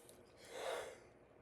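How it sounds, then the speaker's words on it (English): A single person's yawn, a drawn-out breathy exhale that swells in the middle and fades, heard close and alone with no talk. "I'm sure everyone's getting tired of me seeing me yawn all the time."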